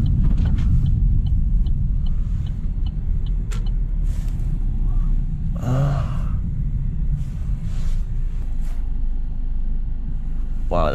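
A micro van camper drives along a road on Scotland's NC500, its engine and tyres giving a steady low rumble throughout, with a few brief higher clicks and whooshes passing over it.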